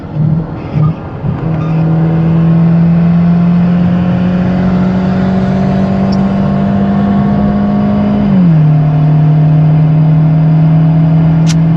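Tuned Mercedes C180 with a downpipe, running 2 bar of boost, accelerating hard: a loud, steady, rising engine drone that holds close for several seconds, then dips in pitch at a gearshift and pulls on again.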